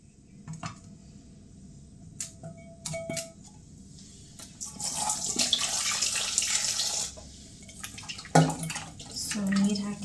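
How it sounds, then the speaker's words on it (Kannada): Tap water runs in short bursts over vegetables being washed by hand, with splashing and dripping close by. The flow grows heavier and steadier through the middle, and small clinks and handling noises are scattered throughout. "ಸೊ ನೀರು ಹಾಕಿ ತೊಳೆದಿಟ್ಬಿಡ್ತೀನಿ."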